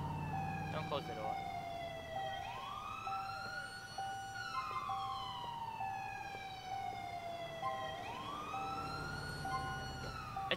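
An ambulance siren in the video game GTA IV wails in long rising and falling sweeps, moderately loud and passing close, over a steady hum, with no talking.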